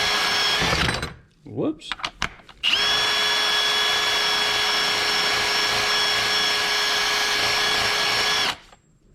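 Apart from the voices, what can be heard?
Scotch-Brite pad on power tool cleaning LS fuel injector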